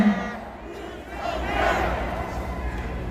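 A crowd at a launch rally shouts and cheers in a sustained, reverberant roar of many voices that swells in the middle and holds steady.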